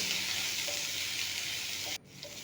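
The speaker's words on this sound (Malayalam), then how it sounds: "ഒരു രണ്ട് പച്ചമുളകും കുറച്ച് കറിവേപ്പിലയും ഒരു സവാളയൊക്കെ കൂടി ഇട്ട് നന്നായിട്ട് വഴറ്റി കൊടുത്തു" Onion, green chilies and curry leaves sautéing in a pan give a steady close hiss of frying oil that drops off abruptly near the end before resuming more quietly, with no talk.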